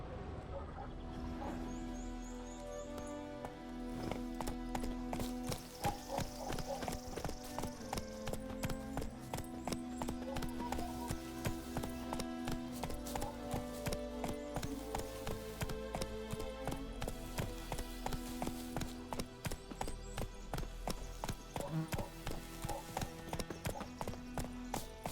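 Roach, the horse in The Witcher 3, clip-clops along in a steady rhythmic stream of hoof taps that starts after a few quiet seconds and runs under game music to the end.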